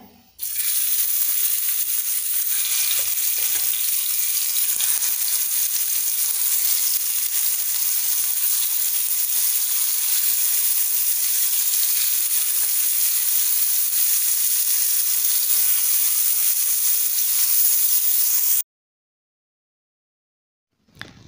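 Fish pan-frying on a flat tawa for a pepper dry dish, giving a steady, loud, continuous sizzle with bright hissing spatter that holds evenly throughout, then cuts off abruptly near the end with no talking.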